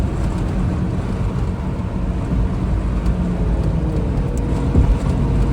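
A Mitsubishi Townbox Wide kei van speeds up on a highway. The engine and road noise make a steady, close drone inside the cabin, holding even throughout with no voices.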